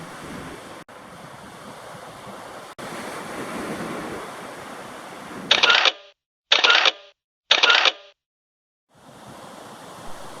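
Sea surf on a sandy beach at Terracina, Italy gives a steady wash of waves mixed with wind rumble. Abrupt cuts break it up, leaving short, louder bursts of surf separated by silence.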